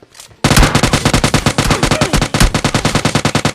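Automatic gunfire in the PUBG Mobile Lite video game, a loud, sustained rapid burst of shots after a brief quiet start, with steady rhythmic reports continuing to the end.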